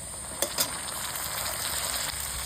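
Garlic paste hitting a pan of frying onions with a sugar-caramelized base, a short burst of close sizzle with a couple of sharp spatters, then a steady hiss.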